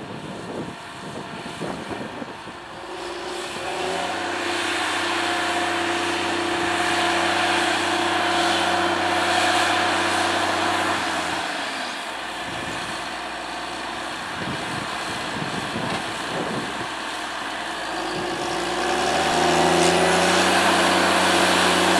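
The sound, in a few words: Caterpillar Challenger tractor engine during headland turn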